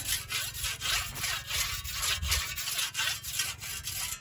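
On a farm, a saw blade is sharpened to take off burrs, producing a quick, regular run of rasping strokes, about three per second, close and fairly quiet with no talk.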